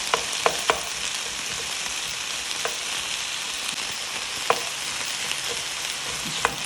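White onion frying in a pan for an Iraqi kas lahm meat dish: a steady close sizzle with a few sharp crackles and pops scattered throughout, no talking.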